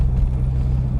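A Porsche 944 Turbo driving through a small town at about 30 mph gives a steady low engine and road rumble inside the car, loud and constant with no talk.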